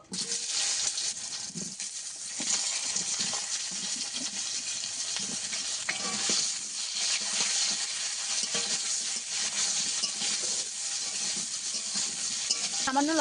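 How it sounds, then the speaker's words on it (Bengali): Eggplant pieces frying in hot oil in a pan for a Bhola fish curry with potato, giving a steady close sizzle with faint scrapes and clinks throughout, no voices. "তেলে আমি বেগুনগুলো ভেজে নেব।"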